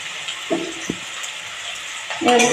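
Pan frying of ginger paste and slit green chillies with a soft sizzle and brief stirring scrapes, a louder burst of sizzling at the end.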